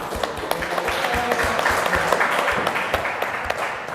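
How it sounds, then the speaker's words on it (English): An audience at a 2021 competition event in Majalengka applauds the participants, with sustained dense clapping from a crowd at moderate distance. "Now, please give a big round of applause for all participants."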